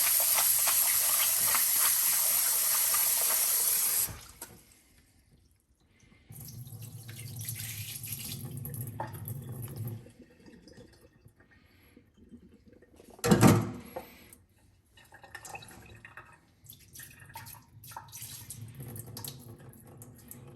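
Tap water runs loudly into a kitchen sink for the first four seconds while meat is rinsed, then softer splashing, trickling and a brief louder gush follow, with handling noises in between.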